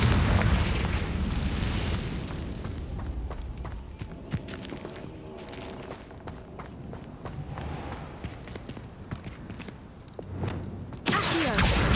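A Confringo fire-spell blast in the Hogwarts Legacy video game, with booming explosive bursts mixed with running footsteps and game sound effects over several seconds.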